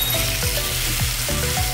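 Pork neck steak searing in a hot pan makes a loud, continuous sizzle, with a few quick spatula or pan knocks mixed in.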